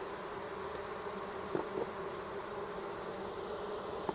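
Honeybees buzz steadily around a top hive feeder during fall feeding, a close, continuous drone with a couple of faint knocks, no voices.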